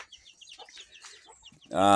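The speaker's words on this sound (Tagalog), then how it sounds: "marami tayong naglilimlim na manok ngayon and marami pa rin nangingitlog" Soft, scattered clucking from native brooding hens on a farm builds into a louder, sustained squawk near the end, heard close by with no talking.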